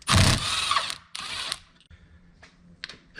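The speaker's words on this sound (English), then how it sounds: "the easiest way I've found to remove these is to put them into the vise using a 10mm socket" A 10mm socket ratchet backs off anodes from a Yamaha 4.2L outboard held in a vise, making bursts of mechanical ratcheting clicks and clunks, with quieter handling knocks in between and no talking.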